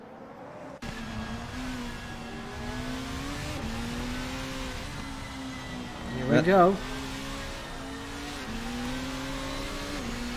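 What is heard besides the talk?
race cars driving in a sim racing video game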